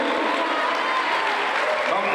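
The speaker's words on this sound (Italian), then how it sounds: "Un applauso a Giovanni Raculli." An audience at an evening stage show bursts into applause, a brief, dense and even wash of many hands clapping without pause.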